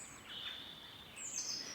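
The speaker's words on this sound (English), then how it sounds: "Chink chink of metal on metal. What bird is that?" Thin, high metallic chinking calls of a bird repeat faintly and sparsely over a soft outdoor hiss, with no voices.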